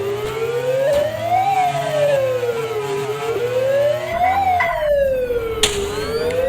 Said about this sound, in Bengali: অ্যাম্বুলেন্স নিয়ে যেতেছি। হসপিটাল তো নাই, কিন্তু অ্যাম্বুলেন্স আছে গেমে।